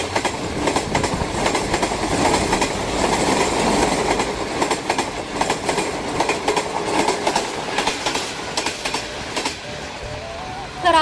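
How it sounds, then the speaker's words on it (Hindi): Safari train run jointly by the railway and Sindh tourism and culture department, departing Karachi Cantt station on a heritage trip: steady loud rumble with rhythmic clickety-clack of wagons over rails and brief metallic squeals, no talk. "रेलवे और सिंध टूरिज्म कल्चर डिपार्टमेंट के इश्तराक से safari train Karachi cantt station से तारीखी सफर"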